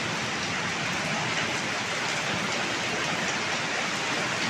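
Heavy village rain in Pakistan falls in an unbroken, loud wash of hiss, even and constant throughout with no voices.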